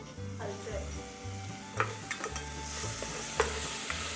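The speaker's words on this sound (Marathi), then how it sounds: "पुन्हा आपण 10 सेकंद झाकण ठेवूयात म्हणजे आपलं आलं लसूण चांगलं परतलं जाईल." Ginger and garlic sauté in an electric rice cooker with a soft, low sizzle, while a spoon scrapes and taps the pot in several sharp clicks over the gentle frying.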